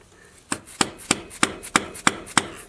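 A soft wooden hammer taps a motorcycle starter loose on a Honda Grom/Monkey during a Kitaco upgrade: eight sharp, evenly spaced knocks about every third of a second, close and clear, with no voices.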